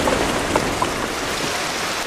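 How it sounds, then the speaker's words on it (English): Steady rain drums on the roof of a shelter on a tropical island, a dense, even hiss of drops with a few louder splats close by and no voices. "So, well protected, I waited for the rain to stop and was giving my hand a rest."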